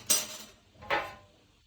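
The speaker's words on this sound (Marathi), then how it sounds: "आता परत मी त्याच्यावर झाकण ठेवेल" A metal lid is set onto a pot of veg pulao, making two bright clinks a little under a second apart, close and clear against a quiet background.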